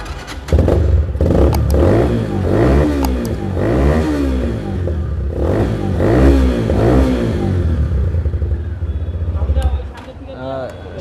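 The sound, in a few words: Regal Raptor GTXL 160cc motorcycle engine running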